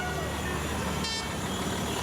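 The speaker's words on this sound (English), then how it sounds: "So lots of honking out on the circuit" At the Hungaroring circuit during a European Truck Racing Championship race, a brief horn toot from a racing truck rises over a dense, loud wash of trackside engine and crowd noise.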